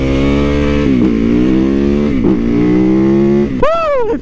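A supermoto motorcycle engine revs loudly and close, holding a steady growl through repeated throttle dips, then ending in a sharp final rev that climbs and falls away.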